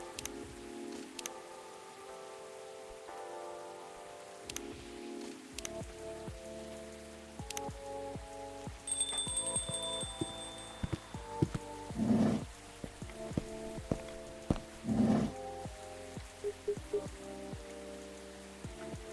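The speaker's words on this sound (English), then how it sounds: "it's still raining like cats and dogs" Heavy rain in the cozy café game Coffee Talk patters steadily on a surface with scattered drips and ticks, soft and continuous beneath a quiet musical backdrop.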